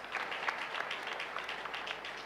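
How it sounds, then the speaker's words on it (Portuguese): A church congregation applauding during a worship service, a sustained crowd clapping of many hands at moderate distance, even and continuous with no one speaking over it. "Vamos aplaudir a Jesus Cristo."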